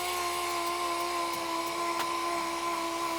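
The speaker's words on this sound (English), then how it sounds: "So got the sander out, the DA" A pneumatic dual-action sander strips paint off a Vespa scooter, producing a steady, close, high-pitched whirring hum with a few faint ticks and no pauses.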